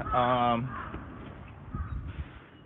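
A crow caws outside, one loud harsh call up close at the start, followed by quieter background sounds with a voice talking.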